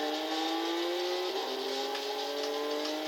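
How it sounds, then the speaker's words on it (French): A Volkswagen Golf IV R32 accelerating hard in Gran Turismo 6, heard from an under-bonnet view, a loud continuous engine tone rising steadily in pitch with no talking. "Quand elle accélère!"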